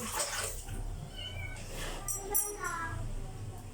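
A pet cat meows repeatedly while being bathed for the first time, its loud, drawn-out, wavering cries rising over running and splashing water close by.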